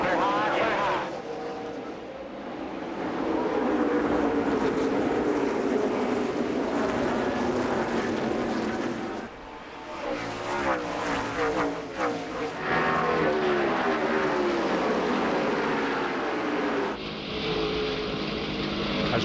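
NASCAR Busch Series race cars roar off turn four for the green flag at the Kroger 200, Indianapolis Raceway Park, 2003, a dense sustained engine drone with crowd noise and a commentator talking over it.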